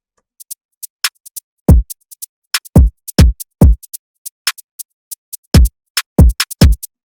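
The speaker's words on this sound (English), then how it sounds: "That kick is banging." Punchy drill-beat kick drum at maximum velocity booms in heavy, gliding low hits, some in quick pairs, over a steady ticking hi-hat pattern, loud and with no other sound.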